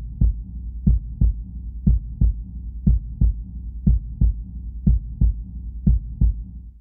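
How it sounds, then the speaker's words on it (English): A processed heartbeat built from djembe drum samples thumps in steady lub-dub pairs, deep, close and heavily effected, repeating about ten times with nothing else heard. "We took a few samples of a djembe drum that I picked up somewhere on my travels, put them into a heartbeat rhythm, and added a hell of a lot of effects to it."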